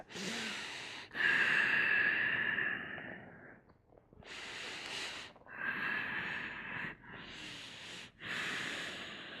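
Strong, deep breaths are drawn in and pushed out during a yoga wheel pose back bend, each long airy inhale and exhale close and loud, separated by short pauses, with no talking.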